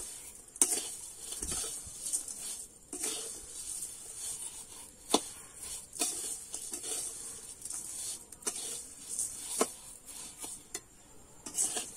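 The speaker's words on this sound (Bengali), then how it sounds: "এবারে কিন্তু দিয়ে চিনিটা কিন্তু আমি একটু নাড়তে থাকবো।" Sugar being stirred in a pan for jorda shemai vermicelli, heard as light irregular taps and scrapes of a spoon against metal over a soft background hiss, close but quiet.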